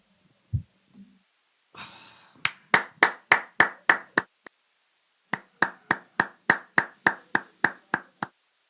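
Sharp, separate hand claps in two rhythmic bursts of about eight to ten claps each, after a brief rustle. They sound close and isolated rather than like a full cheering crowd at an NXT wrestling show.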